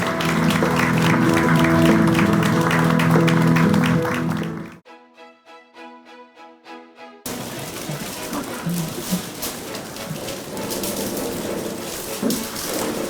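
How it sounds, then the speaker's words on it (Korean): Audience applause at a Korean government event, a loud dense clapping crowd that drops out abruptly for a few seconds of quieter sound, then returns as sparser, scattered clapping. "큰 박수 부탁드립니다"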